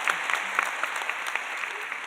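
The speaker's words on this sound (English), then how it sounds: "Yes, round of applause." Applause from a conference audience, a steady wash of clapping that stays even and moderately loud across the whole stretch with no voices over it.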